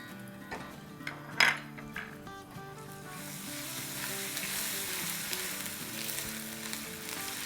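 Chopped onion frying in oil with garlic and ginger paste, a loud continuous sizzle that swells as the paste hits the pan, with a sharp metal utensil clink and stirring scrapes close up.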